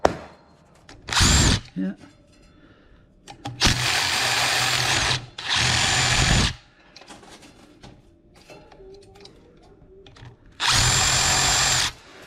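Power drill spinning a nut off a home HVAC unit being scrapped, with four loud whirring bursts of one to two seconds each separated by quieter handling noises, and a brief spoken word in between.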